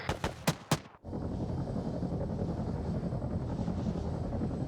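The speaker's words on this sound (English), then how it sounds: "I've got a Chinese helicopter coming" A Chinese military helicopter in the video game Arma 3 drones loudly and steadily with a dense rotor roar, following a few sharp bangs at the start.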